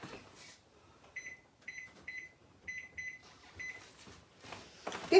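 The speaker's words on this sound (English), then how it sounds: "now let me set the timer" Kitchen oven timer being set, giving a series of short, high electronic beeps in irregular clusters, fairly close, with faint kitchen rustle between them and no talking.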